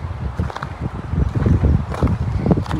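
Strong wind gusts on a road on New Zealand's South Island buffet the microphone in a constant, loud low rumble that swells and eases without a break.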